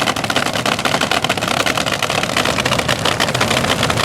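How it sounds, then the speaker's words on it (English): A nitro-burning top fuel dragster engine on a 2011 Sterling chassis idling up close, a loud, rough, rapidly pulsing rumble holding steady throughout. "you can see the car kind of trembling back and forth as that nitro-burning engine idles away"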